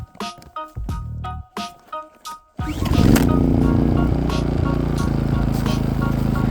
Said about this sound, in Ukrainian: першу чергу його потрібно запустити, щоб прогріти моторну оливу до робочої температури